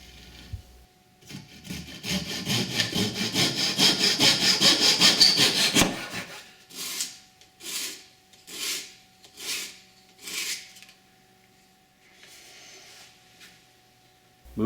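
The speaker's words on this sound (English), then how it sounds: "Cutting the dowel to length and the repair is complete." A hand saw cuts a wooden dowel to length for a child's rocking chair repair, starting with a fast rasping run of quick strokes and finishing with about six slower, separated strokes, close and alone.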